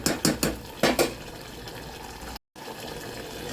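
Aloo keema being stirred in a pan with a spoon: several clinking metal scrapes near the start, then a low steady cooking background with no talk.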